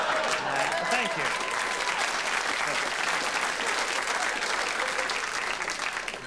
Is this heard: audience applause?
yes